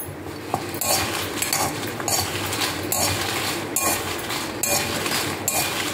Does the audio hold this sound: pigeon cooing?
no